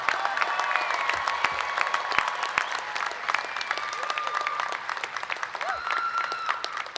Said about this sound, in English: a massive round of applause for the honors graduates of the class of 2025